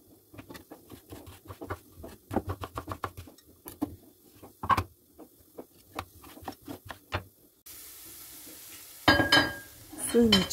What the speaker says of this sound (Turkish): Suyunu çeken tavuklarımı güzelce bir karıştırmaya çalışıyorum.